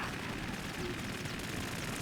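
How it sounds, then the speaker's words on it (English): Sustained gunfire from a Harrier jet in Metal Gear Solid 2, a dense roaring rattle of rapid shots that fills the moment loudly and continuously. "So here he comes with the gunfire."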